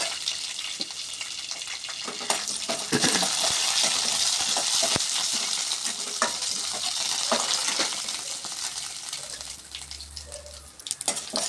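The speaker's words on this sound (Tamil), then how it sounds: "முதல் கடலை பருப்பும் உளுந்தம் பருப்பும் தாளிச்சுக்குவேன்" Chana dal and urad dal sizzle and crackle in hot oil for a tempering, a dense bright hiss with scattered pops and the occasional scrape of stirring, close and continuous.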